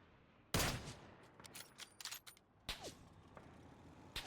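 PUBG gunfire: a sharp loud burst, scattered lighter shots, then two more bursts, with quiet gaps between.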